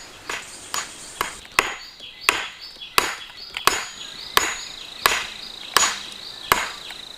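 A hammer drives nails into thin wooden branches while a tiny tree house is built: about ten sharp, close blows in a steady rhythm, with a faint high insect-like whine in the background.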